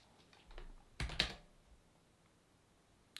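A few quick keystrokes on a computer keyboard entering a terminal command, a short cluster of clicks then quiet, close and moderately faint.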